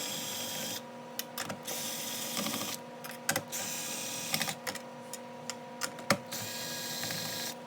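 A DeWalt power driver fitted with a long extension backs screws out of a speaker in a Zenith Circle of Sound unit, whirring in several close, short bursts with clicks and handling noise between them.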